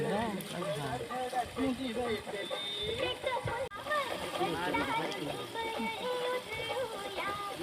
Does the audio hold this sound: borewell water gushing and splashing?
yes